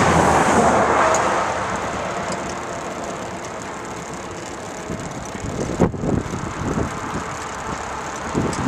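Moderate traffic on rural Highway 301 near Baldwin, a broad steady roar of vehicles passing, loudest at the start and fading. Wind buffeting and faint rattling are heard as the cyclist rides along.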